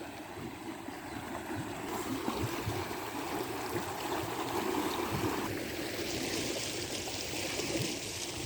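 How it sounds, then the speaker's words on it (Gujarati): Rainwater rushes steadily through a village canal after a downpour, a continuous broad wash of flowing water with bubbling and splashing, fairly close and unbroken throughout. "કેનાલનું પાણી આવે છે"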